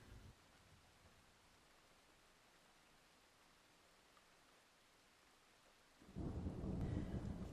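A ferocious thunderstorm with rain: a steady hiss of rainfall holds at a low level before a loud rumble of thunder swells in and stays heavy through the end, with no voices.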